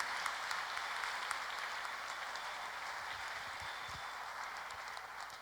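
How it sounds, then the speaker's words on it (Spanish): Audience applause at a talk on politics and communication, a steady dense wash of clapping throughout at moderate distance, fairly quiet and unbroken. "Para ella el aplauso."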